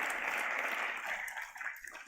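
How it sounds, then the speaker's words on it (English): Audience applause at a conference, a faint, diffuse patter of many hands clapping that thins out toward the end. "Big round of applause for him."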